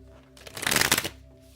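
A deck of tarot cards is riffle-shuffled once at close range, a brief crisp flutter of riffling cards rising and fading within about a second, with no talk over it.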